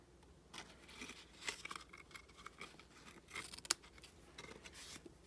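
Scissors snip paper in a quick run of short, crisp cuts at random angles, close and fairly quiet, while a Stampin' Up! shark belly band for candy packaging is trimmed; no talking.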